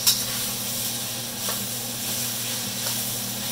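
Minced ginger and shallots sizzling in hot oil in a pan, a steady close hiss with a faint stir or two and no talking.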